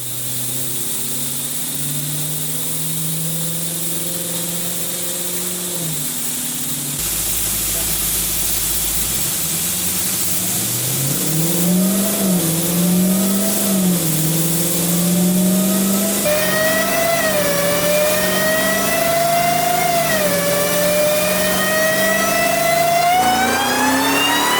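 A stock twin-turbo Dodge Demon 170 strapped to a dyno roars through a full-throttle pull, its engine note climbing steadily in pitch over many seconds, loud and close, with turbo hiss layered over the rising drone.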